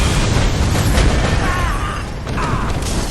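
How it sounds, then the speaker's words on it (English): Laser blast in the video game Bloodborne, a loud, sustained roaring rush of energy filling the sound with a rumbling low end and a faint whining tone, lasting about three seconds. "That laser is insane"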